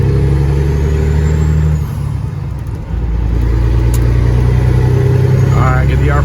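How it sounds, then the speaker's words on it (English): A semi truck under an overpass gives a loud, steady low engine drone with a dip near the middle, which fits Jake brake engine braking though it sounds tamer than expected. Voices talk over it. "Should we Jake brake in the overpass?"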